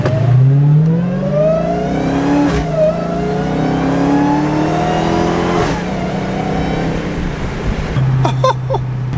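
Dodge Charger Hellcat with an aftermarket intake revs hard and accelerates, its supercharger whining in rising sweeps over a loud, close engine roar that repeats across several pulls.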